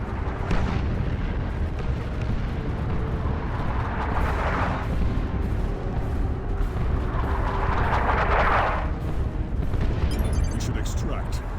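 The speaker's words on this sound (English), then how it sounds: "Launch barrage! Artillery, clear the area." Artillery barrage in Warhammer 40,000 strategy game Dawn of War II: Chaos Rising, a continuous rumbling roar with two swelling bursts of explosions, heavy low end throughout, with voices speaking over the battle.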